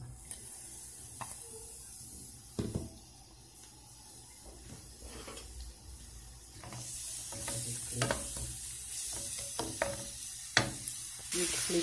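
Onions frying in oil for stuffed bread (aɣrum busufer), a low hiss and sizzle under repeated stirring scrapes and utensil knocks, close and moderately quiet, growing busier toward the end.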